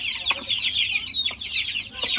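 Several Brahma chickens cluck nearby in short, repeated calls, a busy chorus of clucks with no talking.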